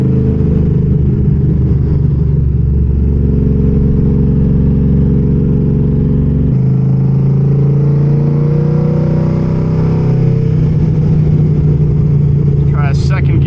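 A cammed Pontiac Trans Am engine revs hard and loud on a dyno, its deep harmonic drone climbing and shifting through the run with steady roaring power throughout.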